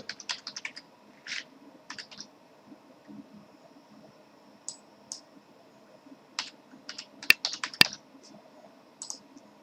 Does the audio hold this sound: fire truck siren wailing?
no